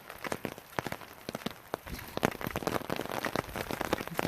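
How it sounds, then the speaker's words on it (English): Rain patters steadily on an umbrella outdoors, a dense close spread of drops with sharper individual taps standing out, continuous and fairly loud throughout. "I wanted to capture the sound of the rain"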